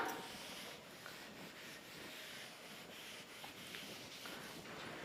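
Steady rubbing of an eraser across a board to remove writing, a continuous soft scrubbing with faint repeated strokes, close and without talk.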